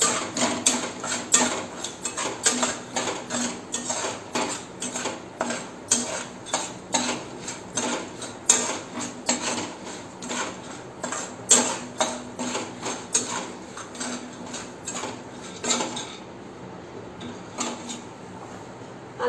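Spices are worked into a Kutchi dabeli filling with a utensil, making a steady run of rhythmic clinks and scrapes against the vessel. The sound is close and fairly loud and stops near the end.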